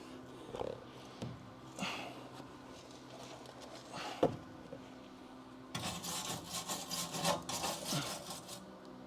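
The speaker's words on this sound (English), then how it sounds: "We still got to grind down the other side." Grinding down metal on the body of a Crew Cab Charger under restoration, rough rasping scrapes in bursts, then a louder sustained grinding run in the last few seconds, close and harsh with no talk.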